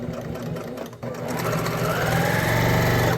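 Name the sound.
sewing machine back stitching the crotch seam of jeans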